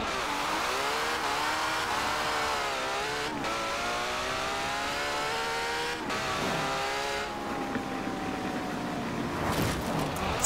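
A Ferrari engine roars in Forza Horizon 4 racing through rain, sustained loud revving with rising and falling pitch as gears shift, a couple of brief dips between shifts, and a sharp noisy burst near the end.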